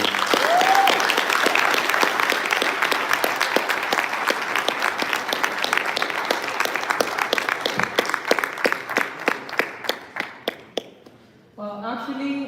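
An audience at a live talk on luxury in Abu Dhabi claps in sustained applause that thins into scattered individual claps and fades, then a voice begins speaking at the end.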